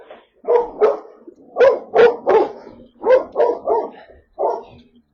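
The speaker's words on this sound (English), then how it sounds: "So we've got another dog this side, a brindle Boerboels type dog." A brindle Boerboel-type dog barks close and loud during a rescue in Cape Town, giving a run of about nine deep barks in uneven bursts with short gaps between them.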